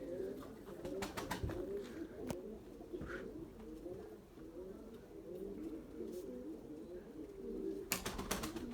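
A tumbler pigeon coos repeatedly nearby, soft throaty rolling calls over faint outdoor background, with a few brief clicks and taps.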